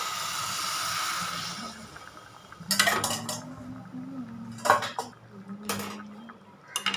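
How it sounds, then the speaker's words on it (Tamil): A spoon stirs a white moong dal mixture in a pan for a Chettinad ukkarai sweet, giving several brief metallic scrapes and clinks against a low, steady hum from the stove. "இப்போ இதில் நம்ம கரைச்சி வச்சுருக்க வெள்ளை கரைசலை போட்டுக்கலாம்."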